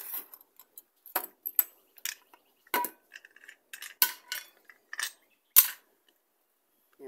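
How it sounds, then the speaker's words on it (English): Plastic lids snapped and clicked back onto rock tumbler barrels: scattered sharp taps, rattles and clacks at close range, irregular bursts separated by short silences. "Now we put the lids on."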